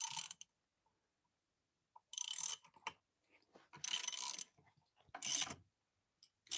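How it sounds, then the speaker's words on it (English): A bolt is spun inside a mechanism, making several separate bursts of whirring, ratcheting mechanical noise, each lasting about half a second, with quiet gaps between them. "I'm going to spin this bolt"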